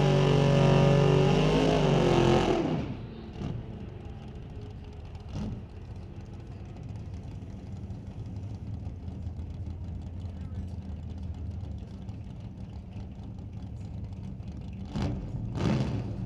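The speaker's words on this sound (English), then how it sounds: "A couple old hot rods." Old hot rod cars roar loudly at a drag race at first, then the engine noise cuts away to a steady, distant rumble broken by a few brief bursts.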